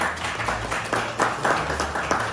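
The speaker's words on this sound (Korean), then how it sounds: "네, 큰 박수 부탁드리겠습니다." Scattered clapping from a small crowd at a KG Mobility award ceremony, a series of uneven claps over a low background hum.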